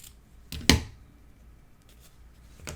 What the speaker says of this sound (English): I'm going to put through and then cut